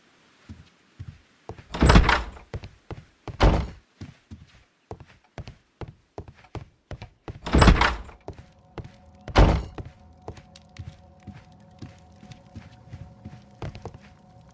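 A door opens inside a Victorian-era house in a Sherlock Holmes video game, with a few heavy thunks and creaks amid scattered footsteps, followed by a quiet low tonal hum.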